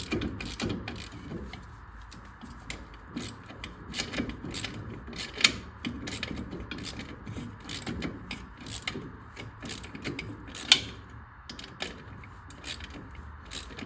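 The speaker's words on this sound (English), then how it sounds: "I'm using a socket on the outside and just a wrench on the inside." Long brake bolts on a Harley-Davidson Servi-Car rear brake tightened with a socket, extension and wrench, giving a steady run of close ratcheting clicks and metallic scraping, with a couple of sharper clanks.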